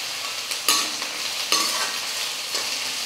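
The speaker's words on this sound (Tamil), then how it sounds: "வெங்காயம் நல்லா வதங்கட்டும்." Onions and plenty of curry leaves frying in a pan for a Tamil chicken kulambu, a steady close sizzle with a few sharp stirring scrapes spaced about a second apart.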